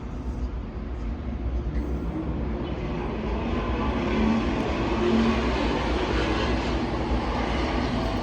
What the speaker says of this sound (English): Hear that loud ass car?